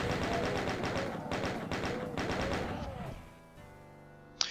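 Rapid, loud gunfire from DOOM, fired at a barrel, rattles continuously for about three seconds with layered game effects, then cuts to a quieter hum ending in a brief sharp click.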